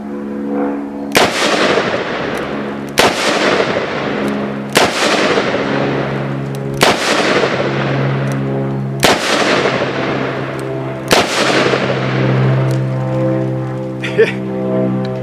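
Ruger Super Redhawk Alaskan revolver in .454 Casull, loaded with Hornady handgun hunter ammunition, fires six loud, sharp shots roughly two seconds apart, each with a booming, ringing decay outdoors.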